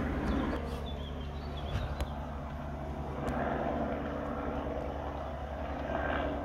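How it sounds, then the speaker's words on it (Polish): A helicopter fitted with a radar frame flies overhead, a steady, moderately distant rotor and engine drone that swells slightly and holds throughout. "Jakiś helikopter z jakąś ramą,"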